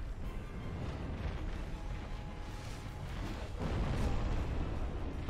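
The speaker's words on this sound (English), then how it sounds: "I completely forgot about those explosions" Explosions in the Dark Souls video game, a dense rumbling low roar of blasts that swells louder near the end, with no talk over it.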